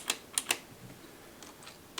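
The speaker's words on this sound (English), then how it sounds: "the clicking keys on this keyboard are actually easier to press" Clicking keys on a SteelSeries Apex 5 keyboard, with a few crisp, close keystrokes in a quick cluster, a pause, then more lighter taps.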